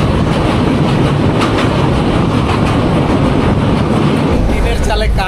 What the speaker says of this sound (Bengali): অবশেষে এই ফাজিলপুর থেকে আমাদের ট্রেন ছাড়লো